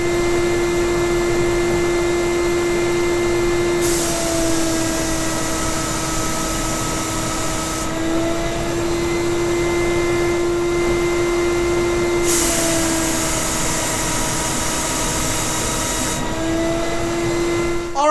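A Titan Maxum II paint sprayer runs on its high setting, giving a loud, continuous motor hum with steady hissing spray bursts that start and stop at intervals, alone without talk.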